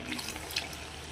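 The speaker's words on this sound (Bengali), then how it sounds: "এবার আমি ডালে জল দিয়ে দিচ্ছি।" Water pours steadily into a pot of boiled dal, making a brief, soft, continuous splashing and trickling sound with no voices.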